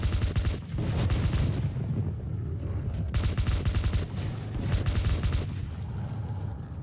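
Sustained automatic P90 fire in the Metro 2033 Redux video game, dense rapid bursts of loud close gunshots repeating continuously with brief gaps, accompanied by booming low-end impacts and no talking.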